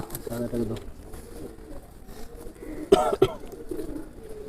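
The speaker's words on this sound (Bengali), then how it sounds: "তো চারটেই সব গিরিবাজ পায়রা রয়েছে" Girebaz pigeons at a pigeon tournament, with soft cooing and bird calls near the start, then a louder burst of wing flaps and scuffling around the middle, all over low background chatter.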